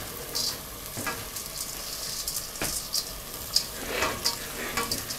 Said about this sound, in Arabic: هنقلب على المكونات ديت الرز اللي احنا ايه غسلينه ومصفيينه.